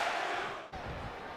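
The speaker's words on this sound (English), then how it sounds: "Back to the crowd here tonight at the Fiserv Forum" Wrestling arena crowd at the Fiserv Forum during a WWE Backlash 2021 event, a broad steady roar of many voices from a large audience, with a brief dip before the noise swells again.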